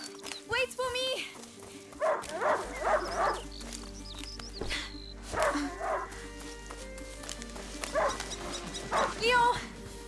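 A hunting dog in the video game A Plague Tale: Innocence gives several yips, barks and whimpers close by, with people talking between and over the dog.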